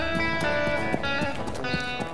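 Horses pulling heavy mine carts on a narrow-gauge field railway, rhythmic hoof clip-clops under a continuous tonal hum, moderately close, no talking.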